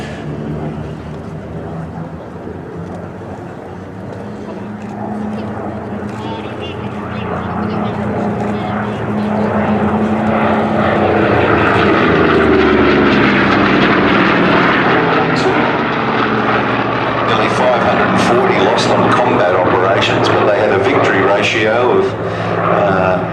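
Vintage propeller warplanes at the Flying Legends air show at Duxford give a loud, sustained engine drone that swells and holds for the whole stretch, with a commentator speaking over it throughout.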